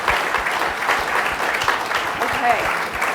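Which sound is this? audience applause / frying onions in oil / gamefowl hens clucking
audience applause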